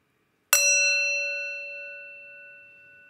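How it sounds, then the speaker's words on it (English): A single bell is struck once, giving a sharp metallic strike followed by a clear ringing tone that slowly fades over about three seconds, alone in a quiet room. "Let's warm up the bell."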